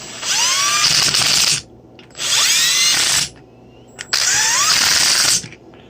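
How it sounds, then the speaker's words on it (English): A power tool tightens intake manifold bolts on a Chevy Cobalt SS in three loud, close bursts of whirring with a rising pitch, each lasting about a second or more and separated by short pauses. "I'll wait on that, but I'll tighten the rest of them down."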